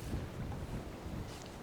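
Wind gusting over a lake shore in Lapland, a dense, steady rumble buffeting the microphone, loud and close with no pause across the short span.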